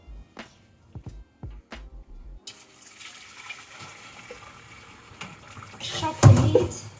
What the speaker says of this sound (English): So we're gonna pour away this water.